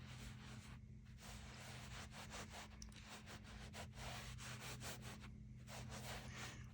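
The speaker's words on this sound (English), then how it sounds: "Gonna push it down into the carpet a bit." Steady scrubbing and rubbing as Arm & Hammer baking soda is pushed into a carpet, a continuous brushing scrape with rhythmic strokes, close up and without talk.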